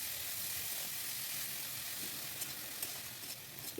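Chopped bathua greens hit hot oil in a pan, giving a steady close sizzling hiss with a few soft stirring clicks near the end.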